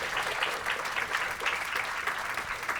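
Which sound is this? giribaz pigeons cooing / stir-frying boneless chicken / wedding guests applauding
wedding guests applauding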